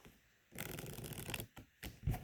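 Unsleeved Keyforge cards riffle-shuffled up close: a quick papery burr of cards flicking together, a short pause, then a second brief riffle ending in a soft tap as the deck is squared.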